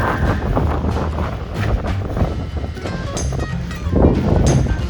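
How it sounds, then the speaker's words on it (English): Gusty wind blows outdoors at a high desert garden beside a greenhouse, a steady broadband rush with low rumbling buffets against the microphone, swelling slightly near the end, with no talking. "the wind is starting to blow"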